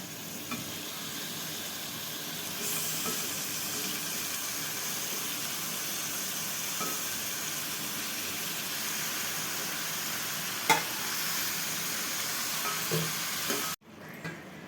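Chicken sizzles in a pan with turmeric, mint and coriander, a loud steady frying hiss with occasional stirring knocks throughout, cutting off near the end.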